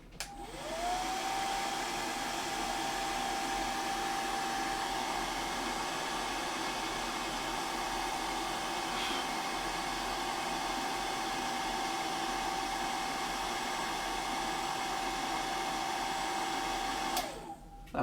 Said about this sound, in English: Maybe we'll just spray with the old hairdryer and see if we can get it dried.